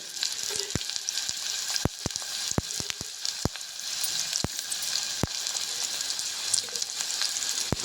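Onions fry in a generous pour of oil for a leafy greens dish, a close, continuous sizzle punctuated by sharp clacks of a spoon against the pan, with no talk.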